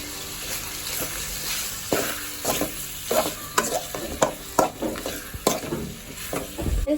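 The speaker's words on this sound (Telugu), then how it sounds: "రుచికి సరిపడా సాల్ట్ ఇది రెండు వేసి బాగా కలిపేస్తున్నాం" Chicken being stirred with turmeric and salt in a hot pan, with repeated scraping strokes over a steady frying sizzle, close and fairly loud.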